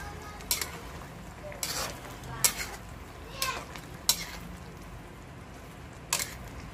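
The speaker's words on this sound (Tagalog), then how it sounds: "Tapos, haluin lang natin ulit." A spoon stirs chicken mechado in a pot after bay leaves and chicken bouillon cubes go in, giving about six separate scraping strokes against a soft simmering hiss.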